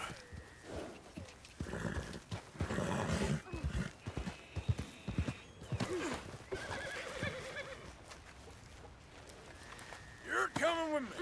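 Horse in the video game Red Dead Redemption 2 whinnying and neighing with clip-clop hooves, close and fairly loud amid game speech and music, with a sharp neigh near the end.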